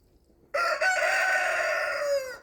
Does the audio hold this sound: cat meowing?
no